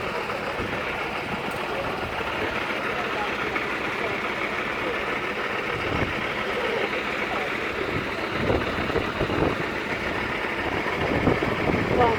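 Outdoors near a Tesco store during a fire alarm, wind buffets the microphone with a steady, loud broadband rush and low rumble that never lets up, under an engine-like hum.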